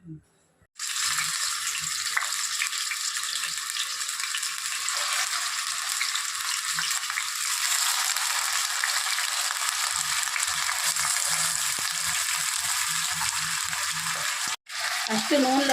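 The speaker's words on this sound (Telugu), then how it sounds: "ఇప్పుడు చికెన్ పొయ్యి మీద వేసేస్తాను" Chicken frying in oil in a pan on the stove, a loud, continuous hiss that starts abruptly, holds steady for many seconds with a faint low clatter beneath, breaks for an instant, then carries on.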